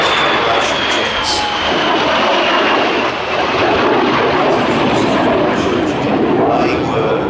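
A de Havilland Vampire, an early first-generation twin-boom jet, roars loudly and steadily overhead at an air festival, its broad engine noise filling the whole stretch with a faint high whine on top.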